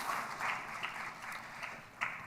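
An audience at a technology conference awards ceremony applauding, a steady wash of clapping from a crowd at moderate distance with no speech over it.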